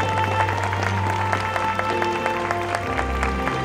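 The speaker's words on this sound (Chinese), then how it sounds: "掌声欢迎。" Wedding banquet guests clap together in a steady, continuous round of applause as the bride's family takes their seats, with music playing underneath.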